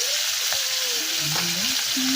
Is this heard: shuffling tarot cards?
no